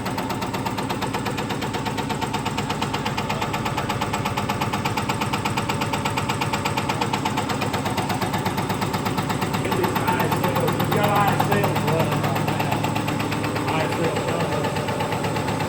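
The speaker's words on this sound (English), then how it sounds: "Right now we're just running at 500 RPM. So it's like it's idling right now." An engine fitted with ISL Cummins injectors turns at about 500 RPM on a dyno, a steady loud idle with rapid, even knocking pulses that swell slightly near the end, with no voices over it.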